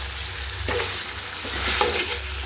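Chicken fries in a pan, its close sizzle running under repeated scraping strokes as the pieces are stirred, with no voices.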